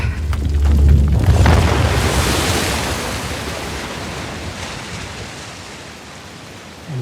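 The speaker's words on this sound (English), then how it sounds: "Let there be water." Water floods in during an Uncharted: The Lost Legacy cutscene, a loud, broad roaring rush that swells at first, then settles into a steady churning wash and slowly eases off.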